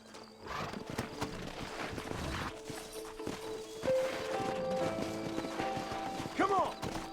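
Horse hooves clip-clop on the ground in Red Dead Redemption among faint whinnies and mechanical clatter. A short neigh stands out near the end, and there is some background game ambience.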